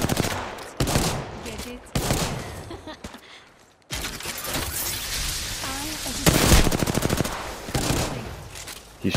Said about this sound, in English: He's shooting a shotgun at a very long distance for some reason.